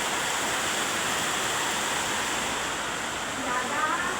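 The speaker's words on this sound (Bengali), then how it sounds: "দেখুন কত সুন্দরভাবে বৃষ্টি হচ্ছে দেখুন" Steady broadband rush of heavy rain falling in Kolkata, a continuous even wash of noise with no pauses or breaks.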